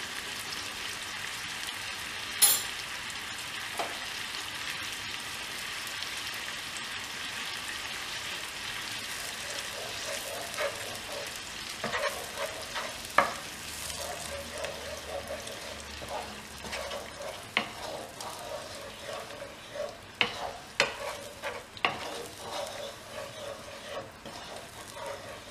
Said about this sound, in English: We're going to keep this on medium to high heat and just nicely work that sauce into the pan.